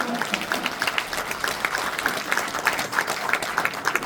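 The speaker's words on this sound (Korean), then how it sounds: "상당구의 이강일 국회의원님 박수 한번 쳐주시죠." Audience applause at a National Assembly member's legislative report meeting, steady clapping with distinct individual claps standing out and some voices murmuring beneath.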